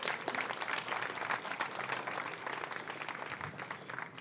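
Applause from an audience at a grantee showcase event, steady broadband clapping sustained throughout with no speech over it.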